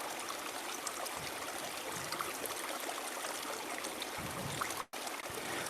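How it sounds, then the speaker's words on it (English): A steady rush of flowing stream water fills the scene with continuous, even, moderately faint trickling broken by only a brief dropout near the end. "Listen to the water and the rhythm of the water."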